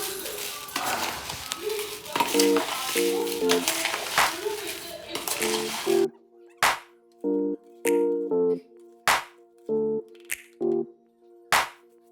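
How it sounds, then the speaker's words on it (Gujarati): A spoon scrapes and clinks against a steel bowl while sugar is mixed into an amla mixture, making a run of sharp, rhythmic metallic taps up close, first under background household noise and then alone. "હવે હું આમાં મિક્સ કરી નાખી"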